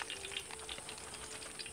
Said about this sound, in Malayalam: ഇത് നമ്മുടെ അവസാനത്തെ നമ്മുടെ ഡെയറി മിൽക്ക് ബജ്ജി ഇതേ നമ്മൾ വറക്കാനായിട്ട് ഇട്ട് കൊടുക്കുകയാണ്